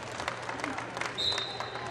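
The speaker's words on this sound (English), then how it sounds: "gets a nice hand from the Red Devil crowd for his hustle" Applause from the Red Devil home crowd at a high school basketball game between Richmond and Lighthouse South, a steady wash of clapping in a gym with a sharp whistle partway through.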